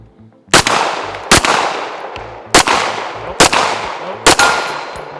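Five sharp pistol shots crack out at a shooting range, spaced unevenly about a second apart, each loud and close with a short ringing decay.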